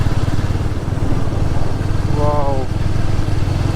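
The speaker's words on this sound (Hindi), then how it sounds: "बाइक की भी क्या मस्त आवाज़ आ रही है यहाँ पे." A motorcycle engine thumps steadily up close while riding through the Ooty hills, a rhythmic mid-range putter with a brief exclamation from the rider over it.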